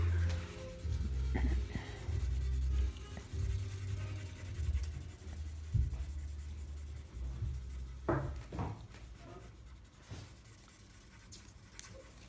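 Pencil or crayon colouring in a drawing scratches and rubs across paper in close, soft bursts of back-and-forth strokes, with short pauses between passes.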